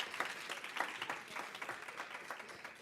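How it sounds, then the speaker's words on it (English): Audience applause at a youth internet governance forum in Canada for a moderator and panelists: steady, moderately distant clapping from a crowd throughout, without speech. "another round of applause for our lovely moderator and panelists"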